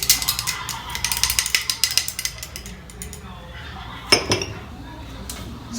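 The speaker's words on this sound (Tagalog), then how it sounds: "So, I'm gonna mix it." A utensil mixes brownie batter with refined cocoa powder in a bowl for microwave brownies, making rapid clinks and scrapes for about two seconds, then softer stirring and one sharp clink.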